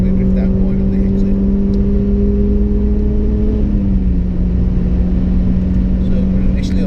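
A car cornering on the ARDS test track, its engine droning steadily with a low, sustained tone that shifts slightly in pitch as it drives through the bend.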